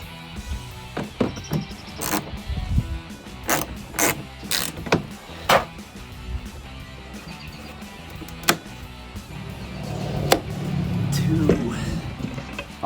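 A ratchet wrench tightens a bolt on a Jeep Gladiator JT side marker light mount, giving close, repeated sharp clicking strokes with short pauses, then a rougher scraping stretch near the end.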